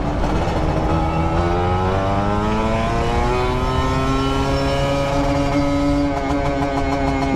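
A Kawasaki Ninja RR sport motorcycle's engine revs steadily higher in one long sustained pull, loud and close, its pitch climbing throughout.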